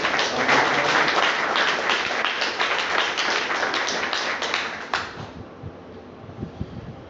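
A crowd at an RCM gathering applauds a guest, Mukesh sir, with steady, close clapping that thins out and fades after about five seconds.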